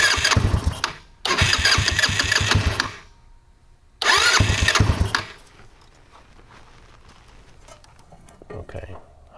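A 150cc Ice Bear scooter with a modified carburetor cranks in several loud, close bursts of starter whir and sputter, then drops to a quieter rough running sound; people talk briefly.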